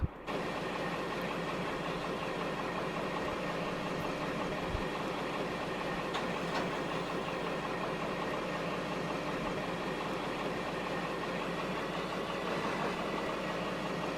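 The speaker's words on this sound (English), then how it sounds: "We've even got a bit of a rev there, I like it. You know, that Paxman rev" A Class 15 locomotive with a Paxman diesel engine runs in a railway simulator as a steady, droning engine hum with a faint rise in revs. Occasional clanks sound over it, and no one speaks.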